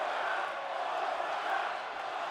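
A wrestling crowd at a casket match cheering in a steady, distant roar of many voices, continuous and fairly faint, with no distinct individual shouts.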